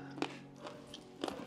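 Someone eating crunchy fried avarebele beans close up, giving two or three distinct crisp bites with softer chewing between them, quiet and without talk.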